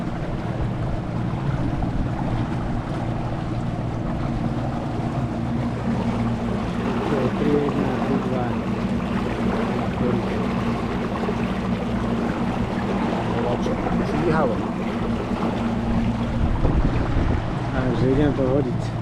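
A boat motor runs on the Váh river during a carp-fishing trip, droning steadily and close by for the whole stretch while wind buffets the microphone.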